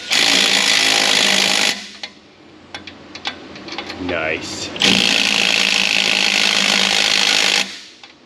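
An impact tool drives exhaust bolts tight on a 2012 Chevrolet Avalanche 5.3, giving loud sustained rattling bursts with a short pause of clicks and tapping between them. Someone speaks briefly during the pause.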